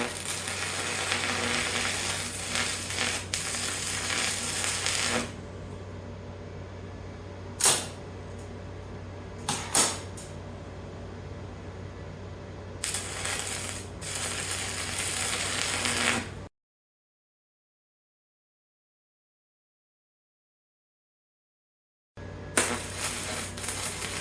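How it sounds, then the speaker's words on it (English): A MecPow stick welder welding a filler piece, a loud continuous crackling sizzle of the arc that breaks off for a few brief pauses, stops for several seconds, then restarts near the end. "We're going to weld that up now and see how well that all works."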